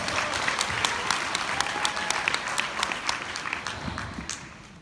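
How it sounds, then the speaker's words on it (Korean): A convention audience of brand partners breaks into sustained applause, many hands clapping in a thick, steady roar with sharper individual claps standing out, holding strong throughout and easing slightly toward the end. "박수."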